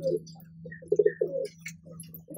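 A slaty Kaldume pigeon coos softly up close in short rolling bursts, with faint chirps from other birds and a low steady hum underneath.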